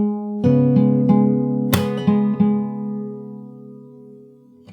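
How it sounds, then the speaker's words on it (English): Fingerstyle acoustic guitar plays a song riff with a percussive slap, repeated plucked notes ringing close and clear over a steady sustained bass, one sharp slap hit in the middle, no talking. "So the whole thing sounds like this."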